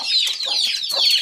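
An old hen on a backyard poultry farm clucks several times in quick succession, close and loud, with no voices or other sounds around it.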